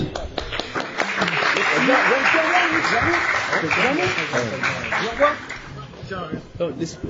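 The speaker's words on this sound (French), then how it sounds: "On applaudit Loïc." A live audience at a Star Wars fan event claps steadily and fairly loudly for a departing guest, with voices and chatter mixed in throughout the applause.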